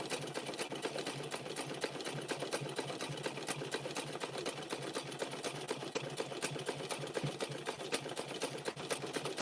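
A sewing machine runs steadily, its rapid mechanical stitching rattle continuous and even, fairly quiet and close, with no talking, sewing fabric strips around rope for a handbag.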